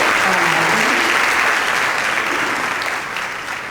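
A seated audience at a panel forum on symbolic violence applauds the panelists, a thick, even wash of clapping that stays loud and then tapers slightly toward the end.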